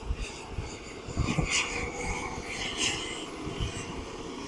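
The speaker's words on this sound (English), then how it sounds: "He's coming back now. This big articulating John Deere 9570R." A big articulated John Deere 9570R tractor pulling a Lemken Karat 10 chisel plow through a field approaches as a steady, loud engine drone with rough mechanical rumble that swells slightly as it nears.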